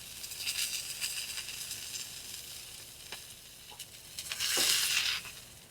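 Steak fat cap searing on a Masterbuilt grill, giving a steady moderate sizzle with crackling pops and a louder hissing surge near the end.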